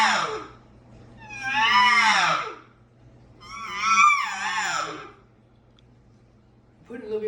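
A human voice imitating an elk cow's estrus whine, with a buzzy, rising and falling squeal repeated twice at close range, separated by pauses, and a third call starting at the end.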